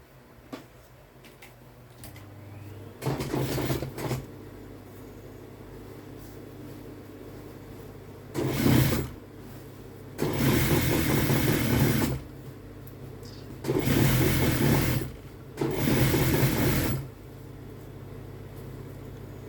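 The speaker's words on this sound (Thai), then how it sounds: "ทำสองข้างให้เหมือนกันแล้วก็ไปเย็บนะคะ หาได้แล้วแล้วก็เอามาเย็บเลยนะคะ" A sewing machine stitches the seam of a trouser leg during a tailoring alteration. It runs in several short bursts of rapid, whirring stitching, separated by quiet pauses.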